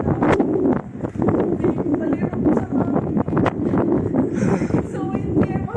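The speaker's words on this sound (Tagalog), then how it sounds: "Grabe ang lakas pa ng hangin." Strong wind buffets the microphone at the top of a 60-meter bell tower in Split, a constant rough rumble under excited talking throughout.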